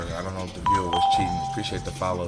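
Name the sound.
doorbell chime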